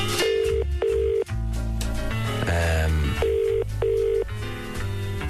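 Phone call being placed: a series of tones and a ring-like pattern of repeating beeps over a continuous musical or tonal background, loud throughout, with no speech.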